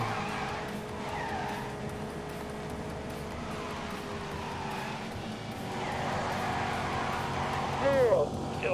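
Tires squeal and skid in The Grand Tour racing video game, a V6 car with 200 horsepower sliding under a steady engine drone, with a sharp rising screech near the end and someone talking over it.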